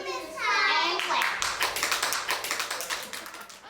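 A small group claps in quick rhythmic bursts at an awards event, fairly close and moderate, following a short stretch of a voice at the start.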